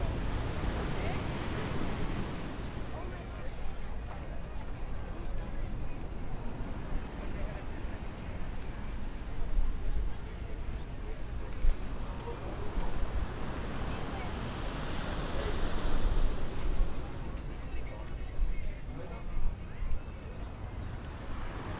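Waves wash onto a beach in a light breeze, a soft continuous surf hiss over low wind rumble. The swells rise and fall gently and stay fairly faint throughout.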